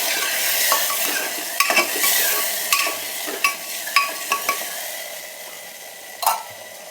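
Ginger, garlic and green chilli paste sautéing with onions in a pan for veg pulao: a steady sizzling hiss with several sharp spoon scrapes and clinks against the pan, close and fairly loud.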